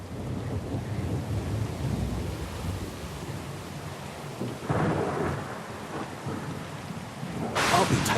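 Thunderstorm in the fantasy game Pillars of Eternity II: Deadfire, with steady heavy rain and rolling thunder swelling around the middle and a sharper crack near the end.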